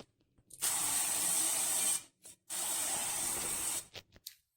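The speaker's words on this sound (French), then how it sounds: "si vous faites avec une bombe, faites-le dans votre évier parce que sinon vous allez en mettre de partout" Cooking spray can greasing a cake mould over a kitchen sink, two sustained hissing bursts of roughly a second and a half each, close and clear, followed by a few short puffs.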